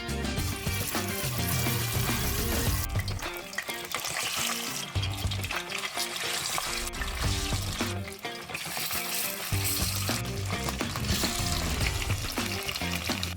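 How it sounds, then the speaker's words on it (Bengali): Hilsa fish pieces fry in hot mustard oil in a wok, giving a loud, continuous sizzle with crackling bursts that ebb and swell over several seconds. No one speaks. "এবার মাছগুলো ভেজে নেব"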